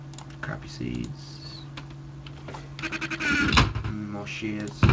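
Sheep bleat a few times in the blocky sandbox game Minecraft, under steady computer keyboard typing and a person talking.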